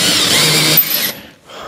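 Power drill countersinking a screw hole in salvaged wood so the screw head sits flush; a loud steady whirring grind lasts under a second, then cuts off and a quieter mechanical whir follows.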